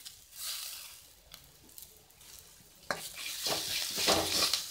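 Curry leaves drop into a pan of onion rice masala and sizzle, followed by scraping stirs that grow louder and busier toward the end, heard alone without talk.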